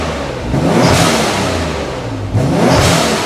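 A Nissan 300ZX Z32 converted to twin turbos with two adjustable blow-off valves revs loudly up close, the engine rising and dropping twice, with a whooshing valve release as the revs fall.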